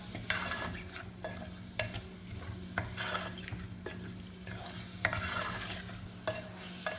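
Spiced chicken being stirred in a hot pan, a spoon scraping and clinking against the metal in repeated strokes over a steady sizzle of frying.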